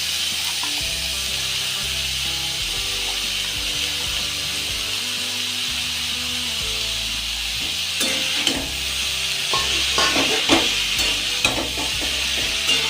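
Spinach and radish greens fry in a little oil in a home kitchen pan, with a steady sizzle under scraping spatula strokes that grow busier and louder partway through.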